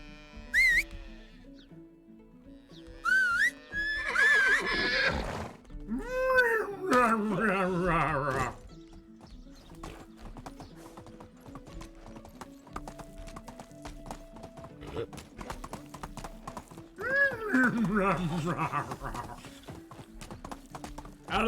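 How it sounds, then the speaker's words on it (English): Steady clip-clopping hooves of a horse in the Medieval Dynasty video game, with several high whinnies and bleating farm animals, set under game music and a person talking. "let's go grab our horse."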